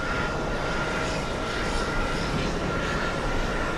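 A JetBlue jet airliner passing at JFK airport, a steady loud broadband engine roar holding at even strength throughout with no breaks.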